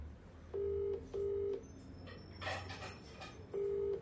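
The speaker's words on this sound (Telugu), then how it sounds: "లైవ్ లో కాల్ చేసే ప్రయత్నం చేస్తాం" A phone is dialed to place a live call. Three short, clear keypad tones beep at an even pace with a pause before the last, set against faint background noise and quiet indistinct sounds.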